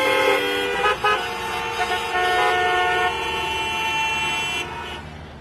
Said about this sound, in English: Here, people honk even when the signal is red.